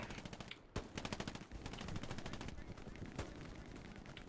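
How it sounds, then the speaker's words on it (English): Rapid machine gun fire from a World War II battle in Hell Let Loose, a close, loud, steady stream of rounds, briefly broken by a heavier thump and continuing with distant shots layered underneath, with voices faintly mixed in. "There's a machine gun on that box!"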